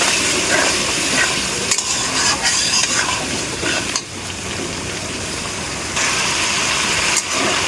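Spice paste with a little water is stir-fried in a pan for a brinjal and tilapia curry: continuous close scraping and stirring over a dense sizzle, with occasional clinks and brief dips.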